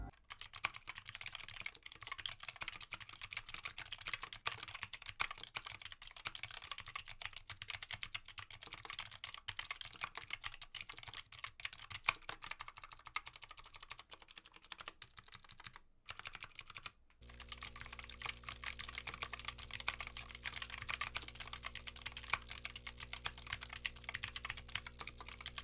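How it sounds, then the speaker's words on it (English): A Flowtech Ventus One mechanical keyboard with Gateron Blue switches and PBT double-shot keycaps clacks away in quick, continuous typing, a close and fairly quiet stream of crisp clicks. "I got my Ventus One with Gateron Blues, and just so you guys can hear how those sound,"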